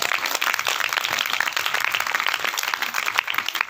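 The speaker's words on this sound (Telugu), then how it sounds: "కొట్టు చప్పట్లు గట్టిగా." An audience at a Telugu sermon claps hard and fast, a dense, steady stream of hand claps that keeps going without a break.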